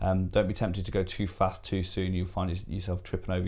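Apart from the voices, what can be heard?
No everyday noises stand out.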